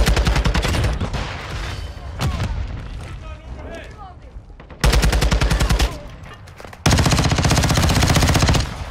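Rapid automatic rifle fire from the Taq 56 in the video game MW2 on the Shipment map, loud sustained bursts of gunshots broken by short pauses, mixed with game effects and someone talking over it.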